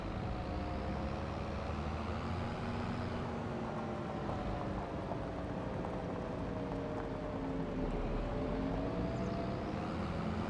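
NEXAT tractor of about 650 horsepower in Farming Simulator 25, a continuous deep engine drone with steady tonal whine that shifts slowly in pitch, loud and alone.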